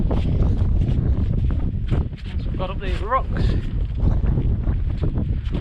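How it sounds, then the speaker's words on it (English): Steady low wind buffeting on the microphone during a moorland hike near Bleaklow Head, with someone talking over it throughout. "there's a bit of breeze in there, you can probably hear that on there"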